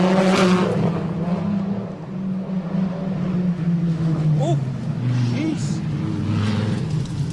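A Viper rally car races past on a closed tarmac stage at TARGA Tasmania in George Town, its loud engine note rising and falling as it approaches and passes close by, with a commentator's voice over the top.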